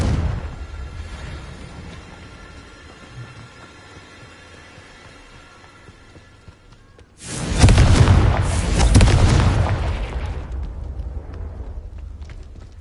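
A Confringo spell sets off a heavy booming explosion in Hogwarts Legacy, a deep roaring blast rising sharply after a low rumbling stretch and then rolling out over several seconds.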